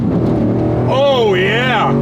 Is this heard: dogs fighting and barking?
no